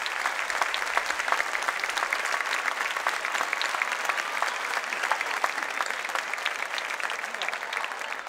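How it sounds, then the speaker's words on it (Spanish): A festival audience at a Three Kings' Day celebration applauds in sustained, dense clapping that holds steady and fairly loud throughout, with no one speaking over it. "se merece un aplauso de todos los que estamos aquí recordándolo"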